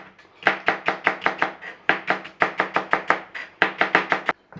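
Rapid knife chops through celery on a chopping board, steady close rhythmic thuds in quick runs with brief pauses, no talking.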